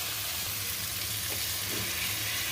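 Tomatoes and lentils cooking in a pan give off a steady, even sizzle of frying that holds at a constant moderate level throughout, with no voices.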